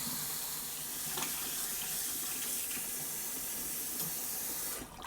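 Cold water runs steadily from a kitchen tap over cooked sausages to cool them, a continuous close hiss and splatter into the sink that cuts off abruptly at the end.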